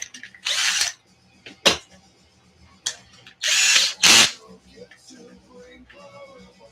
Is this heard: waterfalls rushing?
no